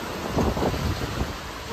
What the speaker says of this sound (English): I guess it's decided it's gonna rain, man. Blew my sign over.